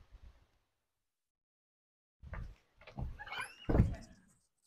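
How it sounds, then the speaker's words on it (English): An outdoor door on a homestead opens, giving a few thumps and rattles after a short silence, fairly close, with some faint handling noise around it. "so I'm walking out the door"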